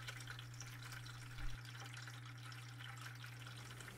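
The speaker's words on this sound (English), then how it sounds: "right here you can observe the Chinese water pump in its natural habitat, pushing the liquid of life through silicone tubes in a food-grade bucket" Small Chinese water pump pushing coolant through silicone tubes in a food-grade bucket for a K40 laser cutter, a steady low electrical hum with faint continuous trickling and gurgling water, one brief soft bump, no talking.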